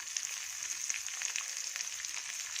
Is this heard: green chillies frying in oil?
yes